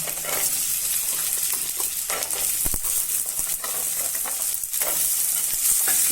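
Small onions hitting hot oil in a pan for garlic pepper kuzhambu, a loud steady sizzle with crackling and stirring close by, no voices.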